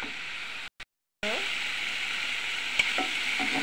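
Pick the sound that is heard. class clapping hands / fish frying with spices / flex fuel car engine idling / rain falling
fish frying with spices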